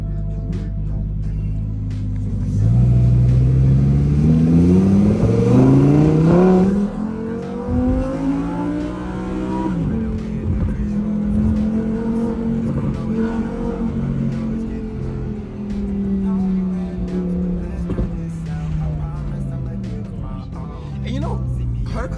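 A Lamborghini Huracan Evo engine revs hard and accelerates, its pitch climbing and falling through the gears as it passes nearby, loud and sustained, with people talking under the engine noise.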